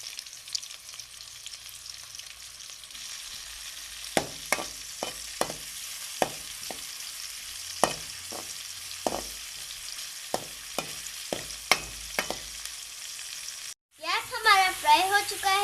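Onion and garlic fry in a pan with a constant low sizzle, broken by a string of sharp spoon taps against the pan. Near the end a loud, bubbling burst of frying rises suddenly.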